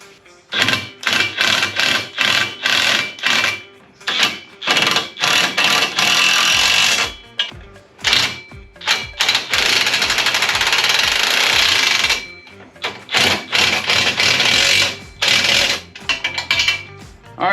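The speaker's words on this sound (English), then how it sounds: "So now we're just gonna snug them all up and then torque them." Bolts being run down on the front bumper of a 2021 Polaris RZR XP 1000 with an impact or power driver: loud, close rattling bursts in repeated runs, some long and sustained, with short gaps between them.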